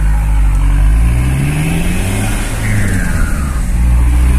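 A tuned Hyundai HR truck with an enlarged exhaust outlet and turbo setup revs loudly up close, its engine note rising and falling through the pipe in a sustained, throaty roar.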